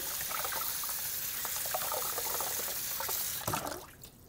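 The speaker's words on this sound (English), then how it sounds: "I'm going to wash my hands" Tap water runs steadily into a sink while hands are washed in a home kitchen, a close, quiet splashing stream with small trickles, ending in a brief clatter as the flow stops.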